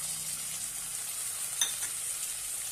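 Chopped tomato sautéing in a pan for methi dal, a soft, steady sizzle with a brief stirring scrape in the middle.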